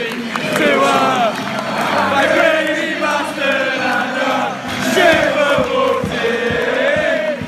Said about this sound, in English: this was the song that the Brentford fans were singing about Harley Dean